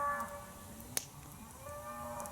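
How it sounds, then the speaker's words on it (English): Cattle lowing from a farm down the road, faint and distant, a single drawn-out moo with a slight harmonic wobble over quiet outdoor background and a brief click. "farm over on down the road, you can hear their cows"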